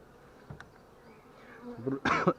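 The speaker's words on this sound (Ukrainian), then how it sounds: "бджоли трохи вже посліталися до вулика" Faint buzzing of honeybees near a hive in the evening, swelling louder toward the end as insects pass close by.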